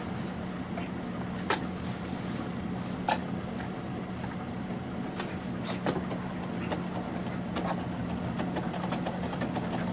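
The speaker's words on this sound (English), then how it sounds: "drop my needle down, and I'm going to be using a straight stitch." Sewing machine running a straight stitch through a fur pillow, a continuous steady motor hum with a low mechanical buzz and occasional faint clicks, close and even throughout.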